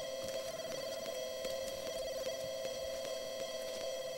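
A telephone rings in The Sims 2 as a faint, steady electronic tone with regular soft ticks running throughout, with no talk.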